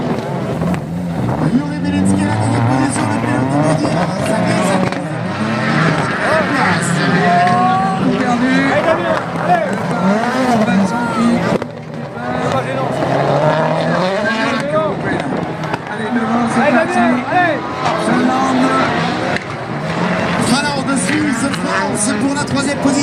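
A Hyundai rallycross car at a French Rallycross Championship round in Dreux roars and slides through a corner, its engine note rising and falling in loud, continuous revving, with a commentator talking over it throughout.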